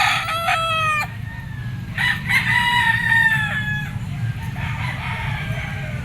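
A yellow-legged gamefowl rooster from a white Kelso bloodline, a banderado bullstag, crows repeatedly and loudly, with several long cock-a-doodle-doo calls over steady low background noise and no talk.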